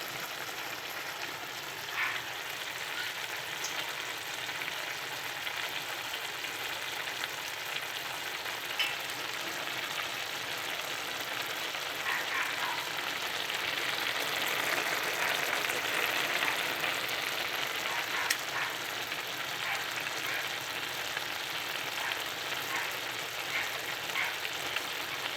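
Banana heart and pork stir-frying in an uncovered pan, giving a steady crackling sizzle that carries on throughout with occasional small pops.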